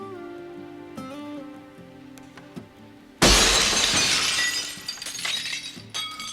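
Glass shatters loudly and suddenly after a stretch of quieter background music, the crash spreading into a long tinkling spill of falling shards and debris.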